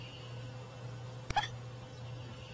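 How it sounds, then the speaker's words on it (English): Baby bat hiccuping, a single tiny hiccup over a faint steady hum, quiet and close. "The bat has the hiccups."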